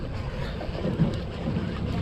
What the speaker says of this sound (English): Steady wind.